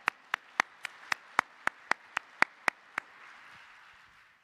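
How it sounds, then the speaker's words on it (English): Around a dozen sharp, evenly spaced claps ring out at a steady rhythm, fading into a soft room tail, a thin scattering of audience applause at a mathematics congress opening ceremony honoring three gold medal winners. "please, another big round of applause to all 3 ICCM Gold Medal winners"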